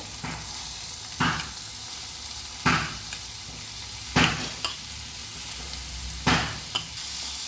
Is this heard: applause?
no